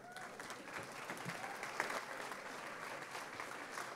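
A school board meeting audience applauds middle school band students and their directors, a faint, distant, steady patter of many hands clapping in a large room, with a brief louder clap near the middle.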